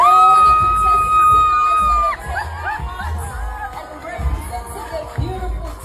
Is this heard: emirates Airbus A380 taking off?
no